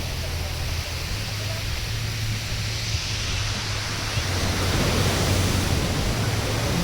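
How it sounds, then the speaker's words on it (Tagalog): Ocean surf at Sibuco beach, a steady loud broadband wash of large waves rolling in with a continuous roar and low rumble, no distinct individual crashes standing out. "Narinig ninyo yun ang alon?"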